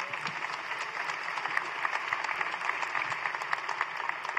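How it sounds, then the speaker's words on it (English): An audience applauds panelists at a mayor's March Madness event, a dense, even wash of clapping from many hands that carries at steady volume throughout. "I think a round of applause for our panelists here."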